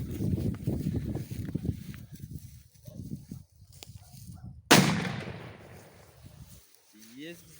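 A P-23 Golden Dragon firecracker goes off as a single loud, sharp blast with a long crackling decay, after a stretch of people talking nearby; faint bird chirps follow.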